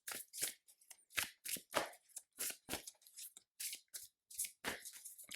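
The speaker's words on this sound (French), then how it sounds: "On y mélange d'abord les cartes de mon ennemi" A deck of Marvel Champions game cards being shuffled by hand, giving quick repeated riffling and snapping bursts in an uneven rhythm, close and crisp with short gaps between.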